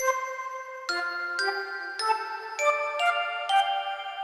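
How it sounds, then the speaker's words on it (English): A free lo-fi instrument plugin plays a soft, shimmering bell patch, a short melodic run of about seven ringing notes stepping upward in even rhythm, each chime sustaining clean and bright with no voices. "There's a bell magic sound that is super lovely."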